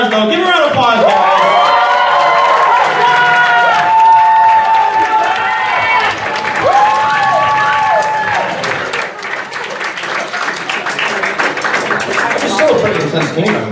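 Convention audience at an anime game show clapping and cheering loudly for contestants, a long continuous burst of applause with high shouts and whoops rising and falling over it, then easing slightly toward the end.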